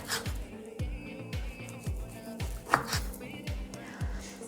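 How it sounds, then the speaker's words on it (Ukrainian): A knife thinly slices sausage on a cutting board, eight even thuds about half a second apart, close and clear with no talking. "Я колбаску нарізаю тоненькими шматочками."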